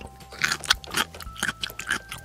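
Short crunchy bites and scrapes repeat in quick succession as toy vegetables are chewed in play, close and fairly soft.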